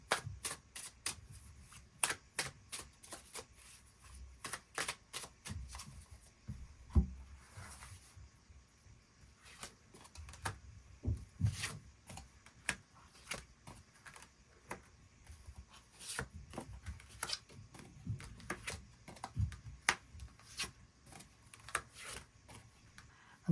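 Tarot cards shuffled by hand during a January love reading, a steady run of dense riffling and soft sliding bursts, close and fairly quiet, with no voices.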